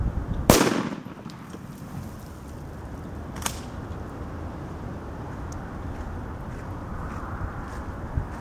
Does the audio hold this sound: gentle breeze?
no